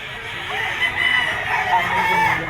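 A gamecock rooster crows loudly and close by at a pet market, one drawn-out cock-a-doodle-doo heard alone over a faint background murmur.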